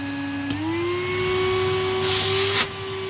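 A salvaged vacuum cleaner from the tip, running without a bag and with a clogged filter, drones steadily on its high setting with a rising motor whine and a brief louder hiss of airflow, close and continuous.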